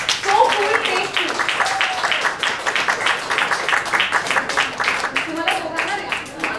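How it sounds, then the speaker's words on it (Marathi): Audience at a book launch applauding, a dense, steady patter of many hands clapping in a room, moderately loud, with some voices mixed in. "एकदा जोरदार टाळ्या."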